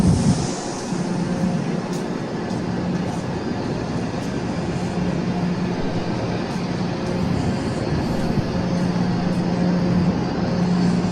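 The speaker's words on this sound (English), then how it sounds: "This is my train here." A steady, loud, droning rumble of a train at a station platform on the route to Makkah fills the whole stretch with a continuous hum and no speech.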